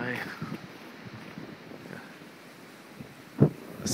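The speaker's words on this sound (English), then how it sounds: "It is a bitter cold. The wind is brutal." Bitter, brutal wind in an Oklahoma blizzard, a steady rushing roar buffeting the microphone with a few sharper gusts near the end.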